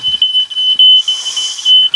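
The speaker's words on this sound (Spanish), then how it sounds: "Ya te está saltando la alarma de los humos, ¿no?" A smoke alarm beeps in a steady, rapid high-pitched pattern, loud and close, with a brief hiss of noise partway through.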